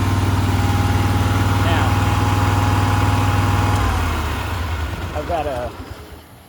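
A 2007 Exmark mower engine idles with a steady, close, loud hum, then drops to a lower, rougher note partway through as someone speaks over it.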